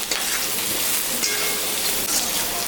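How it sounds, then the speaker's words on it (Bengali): Potatoes and onions sizzling steadily in a hot pan with salt and turmeric added, a continuous close, even frying hiss with faint stirring. "আলু পেঁয়াজটা ভাজা হয়ে গেছে, এখন আমি স্বাদ মতন লবণ আর পরিমাণ মতন হলুদটা দিয়ে দিলাম"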